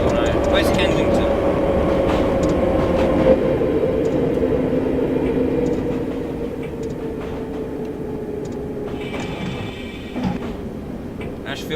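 A London Underground Piccadilly line train in a video game rumbles past with a loud, steady drone that eases off partway through, with faint clanks and a brief high tone near the end.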